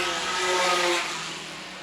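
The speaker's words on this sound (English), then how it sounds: "compare the sound of the 2 Lotus 7s that are running second and third" Vintage Lotus 7 race cars run at a road-course vintage grand prix, their engines giving a broad, steady roar with a brief tonal whine as they pass, fading slightly toward the end.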